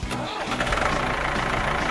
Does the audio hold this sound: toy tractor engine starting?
yes